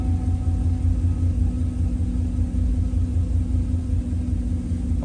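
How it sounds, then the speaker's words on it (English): A GM car engine runs steadily after an ECM swap, giving a low, continuous rumbling idle close by, even and unvarying, with no voices. "turn it back on, and start the engine"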